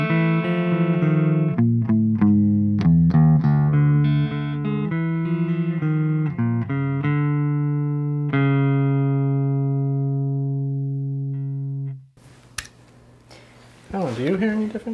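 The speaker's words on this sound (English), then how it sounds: "The first thing we did was no pedals on, neck pickup clean." Clean electric guitar on the neck pickup with no pedals, played as a series of plucked notes and chords that ring out and slowly decay, followed by a brief scratchy handling noise and a voice at the end.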